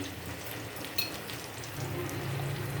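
Spices sizzle and fry softly in a pan for Maharashtrian mugachi usal, a quiet steady crackle with a brief clink of a utensil, swelling slightly toward the end.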